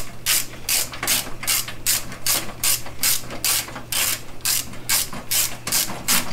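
A ratchet wrench spins fender bolts snug on a car, giving a steady run of about fourteen quick, evenly spaced clicking bursts, loud and close, with a faint low hum beneath.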